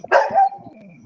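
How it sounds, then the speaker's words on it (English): A dog gives a single sharp bark that trails into a short whimpering whine, loud and close, with no talk. "Oh, sorry about my dog."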